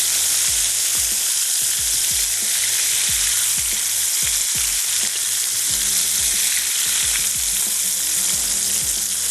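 Shrimp frying in hot oil give off a loud, steady broadband sizzle, with repeated low knocks and scrapes of a utensil moving the pieces around; no one speaks.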